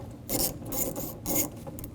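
A 10mm socket ratchet loosening a bolt on a GMC Yukon window regulator makes close, raspy clicking strokes in two bursts, with no voices.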